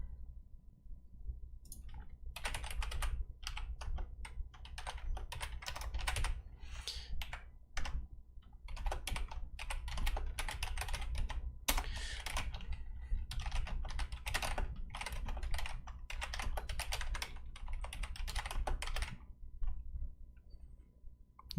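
Someone types on a computer keyboard while writing in a livestream chat, giving bursts of quick, close clicky keystrokes with short pauses in between, and no talking.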